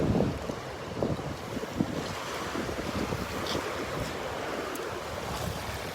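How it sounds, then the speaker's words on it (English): Surf washes steadily up the beach at Delnor-Wiggins, a continuous close rush of breaking water with heavy wind buffeting the microphone, and no voices. "The waves come up."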